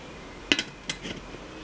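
A pot lid is set down and shifted over a steamer of sweet kozhukattai in a village kitchen, giving one sharp metallic clink followed by a few lighter taps, close and fairly quiet.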